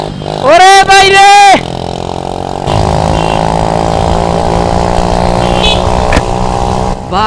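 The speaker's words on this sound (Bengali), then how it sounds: "বাইক একটা নিছে ভাই, জিমনে চালাইতেছে আর থ্রটল মারতেছে" A motorcycle ridden without a helmet or number plate has its throttle blipped, with a loud, rising rev burst followed by a sustained, rough engine roar nearby while someone talks loudly over it.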